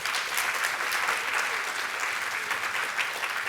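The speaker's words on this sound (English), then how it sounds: "I really just want to give them a quick round of applause" A conference audience at a fireside chat gives sponsors a quick round of applause: thick, continuous clapping at a steady level for several seconds, with no voice over it.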